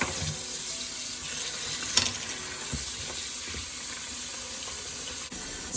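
King oyster mushrooms washed under a running kitchen tap, a steady rushing stream of water with a brief knock of handling partway through, no voices.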